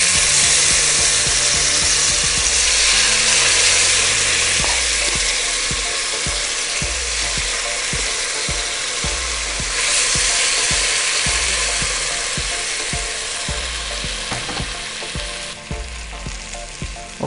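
Chicken fries in a pan for biryani, a loud continuous sizzle close up with a rapid stream of soft crackles and occasional scraping knocks, no talk over it.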